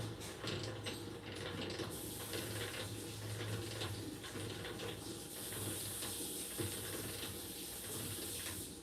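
A tap runs steadily while hands are rinsed on a honey-extracting farmstead, a continuous close splashing wash with a faint mechanical whir and ratchety clicks underneath, with no talk.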